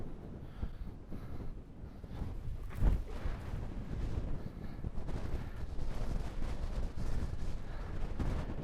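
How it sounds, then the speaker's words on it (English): Strong wind gusts buffeting the microphone on a disc golf course, a continuous low rumbling roar that swells and surges in heavy bursts, loud and close, with no talking. "it is gusting a fair bit harder than moments ago"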